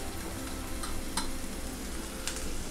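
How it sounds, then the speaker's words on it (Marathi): Crushed garlic, ginger and chili paste sauté in hot oil with a steady, low sizzle. A few sharp scraping taps of stirring come through. "परतून घेऊया तेलामध्ये आपण."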